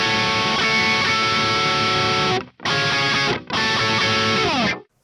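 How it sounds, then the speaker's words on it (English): Electric guitar chords played with heavy distortion ring out in three sustained strums, dense and buzzy with many notes at once, each cut off sharply before the next. "I am not a big fan of the sound of playing chords with distortion, multiple notes simultaneously like this."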